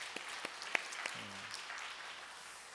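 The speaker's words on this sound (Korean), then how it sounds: "박수 한번 하겠습니다" A church congregation at a Sunday morning worship service gives scattered, faint hand claps, a few distinct claps standing out against a quiet room.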